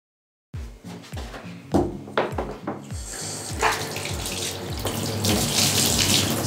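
A few clattering knocks, then cold water gushes steadily from a tap into a sink, growing fuller and louder toward the end.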